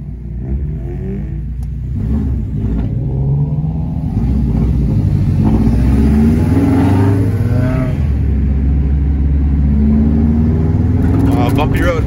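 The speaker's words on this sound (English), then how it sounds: "Wastegate sounds so good." A turbocharged car, a Subaru, S2000 or RX8 on a night cruise in Miami, accelerates hard with a loud, rising engine rumble and wastegate hiss under faint cabin talk.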